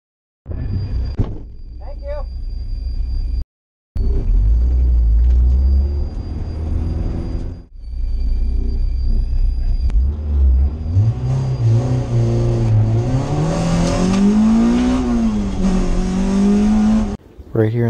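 An Acura Integra on an autocross course accelerates hard, its engine rising through the revs close and loud with a rumbling exhaust. Gear changes break the rising tone, and a voice is heard briefly.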